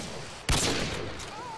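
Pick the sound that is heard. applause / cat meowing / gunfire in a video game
gunfire in a video game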